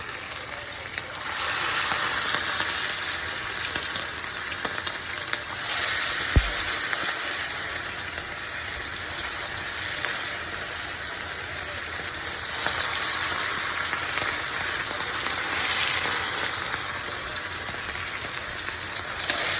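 Marinated chicken thighs fry in hot oil with a loud, continuous, dense sizzle and crackle that stays even throughout, close by and uninterrupted.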